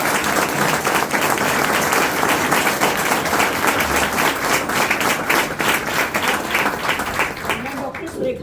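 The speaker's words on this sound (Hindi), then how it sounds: "इसलिए एक बार जोरदार तालियां बजा दो।" Loud, sustained applause from a seminar audience fills the whole stretch, dense clapping from a large crowd that carries on without a break and thins slightly at the very end.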